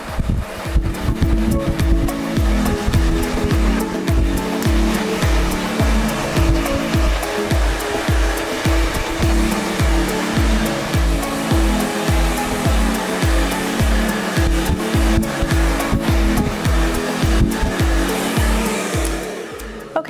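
A hair dryer blows continuously while short hair is blow-dried into a blowout, a loud, close, steady whoosh with rhythmic fluttering pulses as the airflow is moved through the hair.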